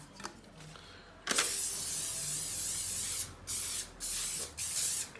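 Aerosol baking spray hisses onto a paper-lined cake tin in one long steady burst, followed by three shorter spurts, close and fairly loud with no talking.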